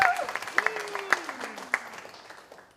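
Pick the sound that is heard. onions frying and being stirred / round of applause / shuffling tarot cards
round of applause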